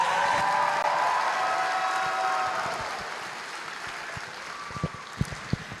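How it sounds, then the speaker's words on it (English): Audience applause fills a graduation ceremony hall, a dense wash of clapping that stays loud for about three seconds, then thins into a few scattered claps. "Please give a round of applause for Ailet Cortés."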